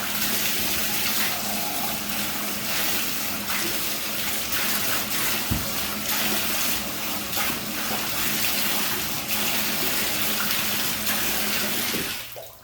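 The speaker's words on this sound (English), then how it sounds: "you put the water in there and it comes right out. That's really easy to rinse the insides out." Water from a tap runs steadily into and through Crocs shoes to rinse out the insides, a constant close rushing gush that stops abruptly at the end.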